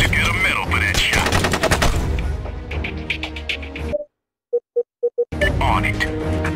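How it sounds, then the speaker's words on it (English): Rapid bursts of automatic gunfire and shots in the video game SOCOM: U.S. Navy SEALs Fireteam Bravo 2, loud and dense for about four seconds, then a short pause broken by a few clipped tones before the firing resumes, with talk over it. "They're firing now, sir."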